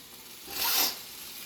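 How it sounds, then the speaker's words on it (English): A spoon stirs risotto rice in a pot, a single brief rasping scrape that swells and fades over about half a second, close and fairly quiet against a low background. "go ahead and stir it around. Get all the rice in there."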